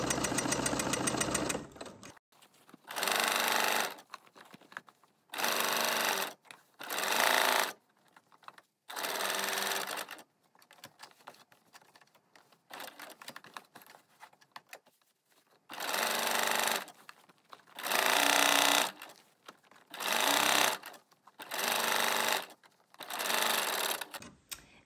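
A sewing machine stitches rows while shirring fabric, in repeated loud bursts of fast whirring separated by short quiet pauses, close up and mostly alone.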